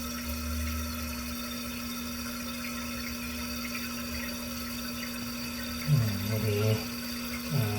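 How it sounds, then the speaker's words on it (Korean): A toilet cistern refilling through a newly replaced fill valve, a steady hiss and rush of water with a constant hum underneath and brief gurgling bursts near the end. "물도 잘 차고 있습니다."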